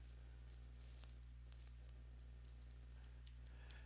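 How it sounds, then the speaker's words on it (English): Faint, rapid clicking of keys on a computer keyboard, irregular bursts of taps over a steady low electrical hum, with no talking. "I'm typing it in now."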